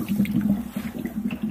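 Air bubbles stream out of a leaking Mercruiser 8.1 heat exchanger submerged in water during a pressure test, a continuous close bubbling gurgle without pause.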